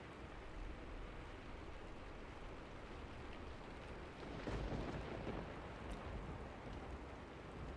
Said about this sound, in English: The sound of the storm, muffled, but powerful enough that you can still hear it deep below the building of the Dolly.